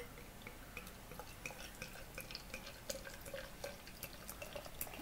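Stout beer poured from a corked bottle into a glass, giving a steady fizzing, trickling pour with faint crackling bubbles throughout, close and quiet, with no talking.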